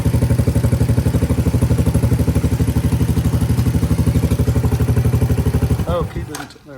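A Honda Big Red barn-find engine running with a steady, rapid mechanical chug close by, then cutting out near the end.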